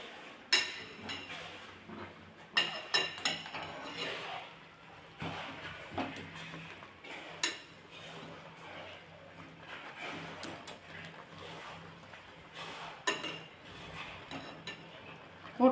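Maggi noodles are stirred in a small pot on a gas stove at home, with scattered metallic clinks and scrapes of a utensil against the pot over soft background noise.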